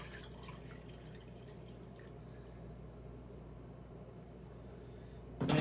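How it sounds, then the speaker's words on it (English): One liter of water poured into a small camping kettle for an MSR Pocket Rocket stove, a steady close trickle and splash that runs continuously before ending in a louder clank. "let's fill it full of the 1 liter of water"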